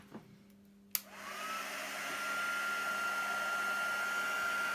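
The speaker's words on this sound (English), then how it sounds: "So let's take the heat tool." A handheld heat tool is switched on with a click and blows steadily to melt embossing powder on layered die-cut paper, rising to a constant whooshing drone with a thin whine that holds until the end.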